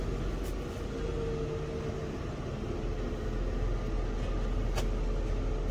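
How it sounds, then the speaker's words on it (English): A vehicle stuck earlier pulls off into a ditch to let another get past, its engine and road noise a steady, loud, continuous rumble with occasional brief knocks. "See if I can't drive in the ditch here so he can get by me"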